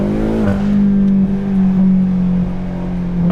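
Stock BMW M5 Competition engine revving at low driving speed, a deep steady drone that rises and swells twice, close and loud with no talk.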